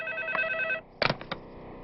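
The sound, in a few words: telephone ringing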